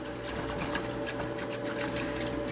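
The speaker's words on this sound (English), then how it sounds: "I'm just gonna get right in there and whisk it in." A whisk works xanthan gum into a liquid, making a fast, even, rhythmic scraping and buzzing that holds steady and close throughout the brief stretch, with no voices.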